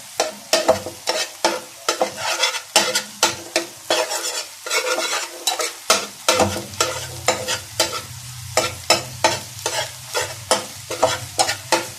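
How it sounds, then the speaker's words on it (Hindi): Eggs being broken up and stirred in a hot pan for daal anda: steady rhythmic scraping strokes over a loud sizzle, close and continuous, with no speech. "अंडे के बिल्कुल पीस कर लेने हैं"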